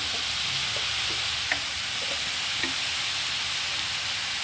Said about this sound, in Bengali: দু তিন মিনিট একটু ভেজে নিলাম